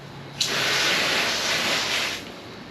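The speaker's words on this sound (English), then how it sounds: "And pay attention here when I spray this." A steady hissing spray of water onto a car's fabric convertible top starts abruptly, holds for nearly two seconds close by, then cuts off.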